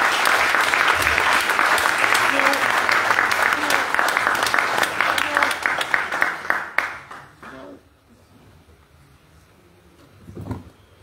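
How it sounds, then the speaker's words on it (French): A congregation at a Mass breaks into steady applause, loud and sustained for several seconds before it fades out. Near the end a short, isolated low thump follows in the quiet. "Est-ce qu'on peut applaudir?"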